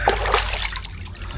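Water splashes and sloshes as someone bathes outdoors on a hot summer day with cold water, with a loud burst of splashing at the start that settles into a softer trickle.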